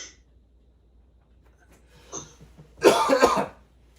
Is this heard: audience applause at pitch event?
no